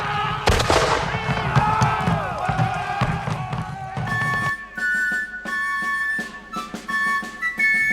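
Napoleonic-era artillery fires during a reenactment, with sharp booming reports and crackling echoes. A rough, noisy stretch comes first, then a quieter spell with tonal ringing and scattered clicks and knocks.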